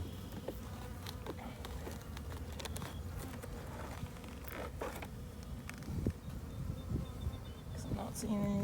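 Honeybees buzz around an opened beehive in a steady droning hum with faint creaks and rustles close by. A voice murmurs quietly underneath.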